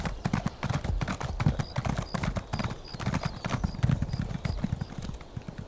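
Hooves of a horse ridden in The Elder Scrolls Online clip-clop in a quick, steady rhythm, close and clear throughout, with a faint high tone repeating above them.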